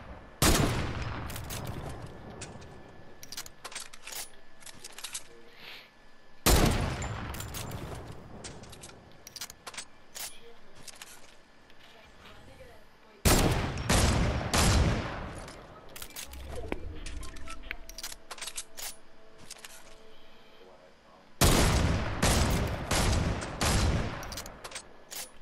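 Fortnite gunfire arrives in four sharp, loud bursts of rapid shots, each followed by quieter stretches of ambient game sound.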